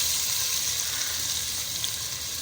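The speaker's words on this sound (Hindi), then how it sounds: "हमारा ऑयल गर्म हो चुका है। सबसे पहले हम इसमें डालेंगे ज़ीरा 2 चम्मच।" Two spoons of cumin seeds dropped into hot oil for a chicken handi hiss and sizzle loudly and continuously at close range, a dense bright crackle with no voices.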